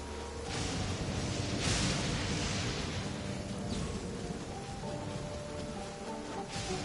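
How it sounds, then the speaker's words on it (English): Steady rain falls across a Genshin Impact game world, a dense, even hiss of drops on surfaces that holds constant for the whole stretch with no voices. "Don't stay out in the rain for too long."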